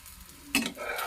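Wheat flour pudla cooking in a pan: a soft, steady sizzle from the batter, with a brief brighter crackle midway before settling back into a gentle hiss.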